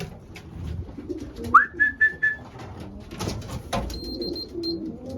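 Racing pigeons call in a loft, with a single clear whistling coo rising and holding briefly, among soft rustling, wing and cage noises and a faint high tone near the end.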